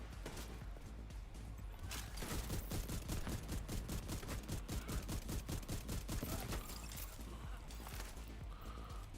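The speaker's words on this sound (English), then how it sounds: "Who's shooting me in the back?" Rapid bursts of automatic gunfire fill a firefight in the video game The Division 2, loud and sustained with dense rhythmic shots.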